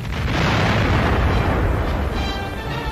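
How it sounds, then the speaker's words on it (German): A freighter carrying weapons and ammunition is blown up in a 1942 German wartime newsreel, heard as a loud, sustained explosive roar and rumble that fills the whole stretch without letup. "Der Frachter wird gesprengt."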